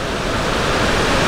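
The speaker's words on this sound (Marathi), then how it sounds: "अचानक मोठा पाऊस आलेला आहे" A sudden heavy rain near Marleshwar waterfall in the Sahyadri hills, Ratnagiri, makes a loud, dense, unbroken rush of water, steady throughout the short stretch with no voices.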